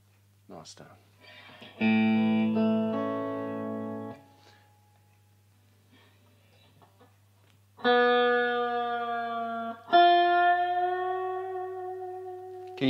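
An electric guitar played through a Boss Katana amp with effects and picked up by a microphone rings out in sustained chords and held notes, with a pause between phrases and a steady low hum underneath.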